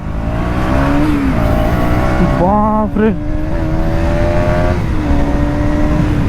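A KTM Duke motorcycle engine, freshly serviced with its rpm raised, drones loudly and steadily in traffic, with a couple of quick revs rising in pitch near the middle and a brief exclamation from a rider.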